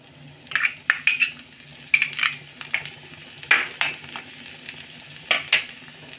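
Finely chopped garlic and dried red chillies sizzle in hot oil for a palak paneer tadka, with a soft frying hiss punctuated by repeated clinks and scrapes of a spoon stirring the pan.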